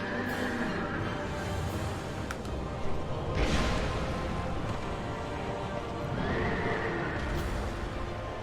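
A horse in the video game Dark Souls 2 neighs and whinnies loudly twice over a steady game soundscape, with faint hoof clip-clops mixed in.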